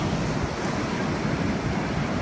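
Continuous roar of ocean surf washing onto the shore, loud and steady, with wind noise buffeting the microphone.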